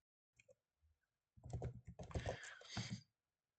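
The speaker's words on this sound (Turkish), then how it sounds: "Enter'a basıyorum" A computer keyboard is tapped in a quiet room, with a few isolated clicks followed by a quick burst of keystrokes ending in a firmer key press.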